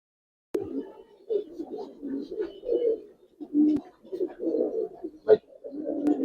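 Giribaz pigeons coo in short, throaty bursts close to the listener, phrases coming one after another with brief pauses, and a couple of sharp clicks or taps cutting in between.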